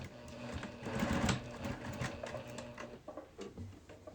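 A sewing machine stitching quilt pieces along a curved seam, a close, steady mechanical whir and needle patter running for a few seconds with slight changes in speed.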